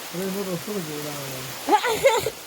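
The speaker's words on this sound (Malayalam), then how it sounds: "ഇവിടെയൊക്കെ നല്ല മഴയുണ്ട്" Steady rain patters in the background while a person speaks over it.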